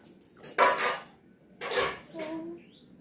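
A spoon clinks against a dish while a small child is fed at a birthday celebration, with a few short metallic taps between spoken voices nearby.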